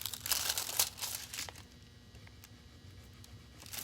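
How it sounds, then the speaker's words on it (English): A foil sheet is peeled back, giving close crinkling, tearing bursts for the first second and a half, then quieter scattered crackles. "let's peel this back, see if I missed anything"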